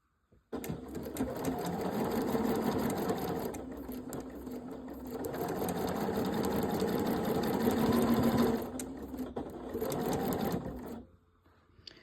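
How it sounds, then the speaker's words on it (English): A sewing machine with a quarter inch foot stitches quilt pieces, a close steady mechanical whir running in three long stretches separated by brief pauses before stopping. "So here I'm starting to sew with a 1/4 inch foot."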